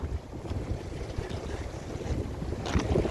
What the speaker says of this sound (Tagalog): Lakas ng hangin, kaya yung buko ko ala.